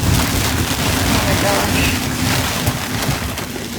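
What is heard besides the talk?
strong wind gust with rain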